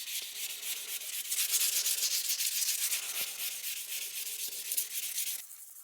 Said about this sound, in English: We're going to sand it with some 1500 grit sandpaper on my little sanding pad here